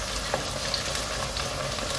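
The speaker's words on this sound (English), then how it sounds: "Just the onions, coriander, green chilies, all there, sizzling away." Onions, green chilies and coriander sizzling in a pan for a homemade lamb and spinach curry, a steady close crackling fry with small pops throughout.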